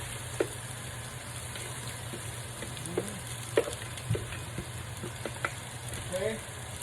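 Vegetables sauté in butter in a pan with a low, continuous sizzle, broken by scattered clicks and stirring scrapes. It is fairly quiet and close.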